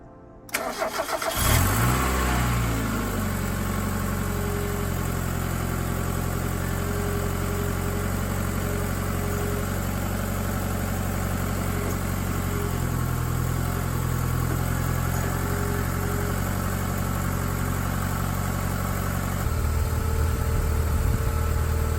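A Mazda Miata MX-5 NA, first generation, being started after thermostat replacement: a brief starter crank catches into a loud, close engine that settles into a steady, even idle, with a slight change near the end.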